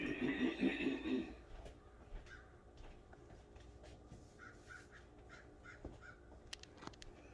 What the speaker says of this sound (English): one, two, three big birds, four, the big black birds.